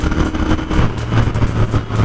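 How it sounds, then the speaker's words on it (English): Royal Enfield Continental GT 650 twin-cylinder cafe racer engine running with a steady low exhaust rumble and rhythmic pulsing, loud and close, with no talk. "I love the engine sound, the exhaust note of this bike"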